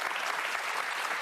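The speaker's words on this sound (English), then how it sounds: "You hear they clapped." An audience claps together in a steady, dense burst of applause that holds evenly throughout, filling the room without any voices standing out.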